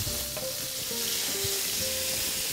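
Ingredients for a rabbit stew sizzle steadily in a frying pan, a continuous close crackle and hiss with a few brief clinks from stirring, and no talking.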